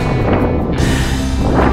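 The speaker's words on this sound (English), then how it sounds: "It's pretty windy here," Wind gusting across the open summit of Milk Hill in Wiltshire, a steady loud roar buffeting the microphone throughout with no speech.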